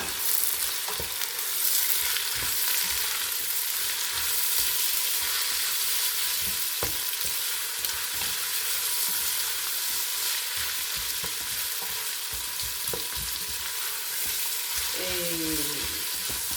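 Onions frying in oil, a loud, continuous close-up sizzle that stays steady throughout, with faint occasional stirring knocks beneath it.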